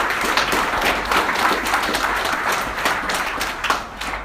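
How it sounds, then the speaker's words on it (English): Audience applause at a housing awards ceremony, a steady dense wash of clapping hands that carries throughout, fairly loud and close, with no speech over it. "So round of applause for Kane Alloway, our second nominee."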